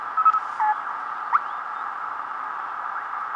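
Morse code CW signals from a couple of stations on the 40-meter amateur band, picked up on a Heathkit HW-16 CW transceiver, with short tones over a steady band of receiver hiss and static.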